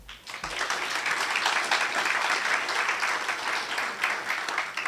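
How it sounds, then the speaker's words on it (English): High school audience applauds after a student's public speaking final, with dense, steady, loud clapping from a full room that holds throughout with little variation. "can we get another round of applause for my amazing class?"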